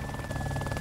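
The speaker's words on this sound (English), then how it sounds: "To get a helicopter" Helicopter in the video game DayZ, set on Namalsk: a steady rotor and engine drone with a faint buzzing whine, continuous and fairly loud for under a second.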